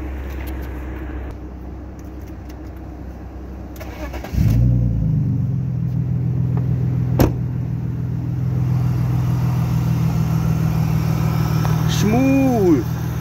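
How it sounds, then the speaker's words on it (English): A 2001 BMW 325i E46 engine starts up partway through and settles into a steady low idle, with a brief rev near the end. "And this lovely exhaust note"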